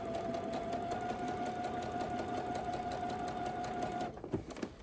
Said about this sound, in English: I'm at the part where I'm sewing around the curve of my neckline